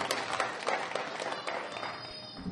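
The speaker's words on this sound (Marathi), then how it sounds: "त्याबद्दल त्यांचं टाळ्या वाजून आपण अभिनंदन करूया" An audience applauds at the inauguration of a state-level Kanjeri bhajan competition, a dense spread of clapping from a crowd that stays fairly even and moderately loud, then thins out at the end.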